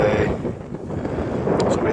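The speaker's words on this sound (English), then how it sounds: "It's really windy today." Outdoor wind buffets the microphone on a cold, stormy day while work continues on a 2011-2015 Nissan Rogue's CVT transmission, producing a loud, continuous roaring rumble that rises and falls in gusts for the whole stretch.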